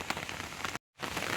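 Rain falls steadily in a home rose garden, a soft, even hiss of drops on leaves and surfaces, broken by a brief moment of silence partway through.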